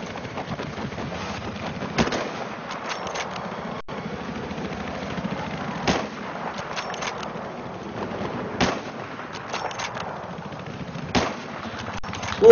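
Sniper rifle shots from Battlefield 3 crack out one at a time every couple of seconds, sharp and fairly loud over a steady background of battlefield rumble.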